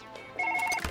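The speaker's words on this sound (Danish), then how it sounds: "Og der er nogle ringer til mig." A phone rings in Surgeon Simulator 2013, a short repeating electronic trill of bright tones, moderately loud, with a soft thump near the end and no talk.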